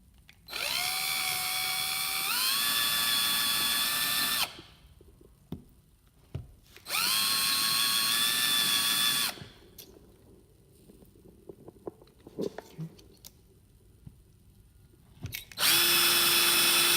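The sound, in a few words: power drill drilling a hole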